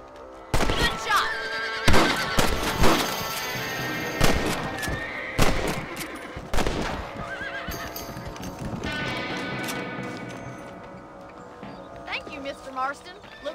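Horses in the Western video game Red Dead Redemption on PC whinny loudly among clip-clopping hooves and sharp bursts of gunfire, with voices talking throughout the scene.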